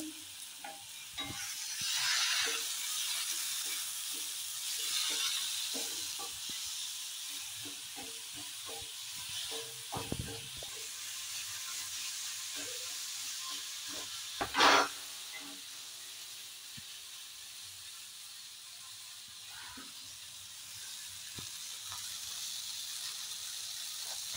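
Chopped onion and green chillies frying in a pan, a soft steady sizzle broken by occasional stirring clicks and scrapes, one sharper clatter midway, no voices.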